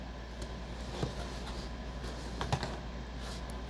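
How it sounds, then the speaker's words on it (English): Tarot cards are shuffled close by in soft, scattered riffles and slides over a low, steady room hum, with no talking. "I continued to shuffle the cards while I was talking"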